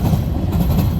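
The tail end of a CN freight train rolling past with a GATX car and the end-of-train device, a loud, close, steady low rumble of wheels and cars with no voices.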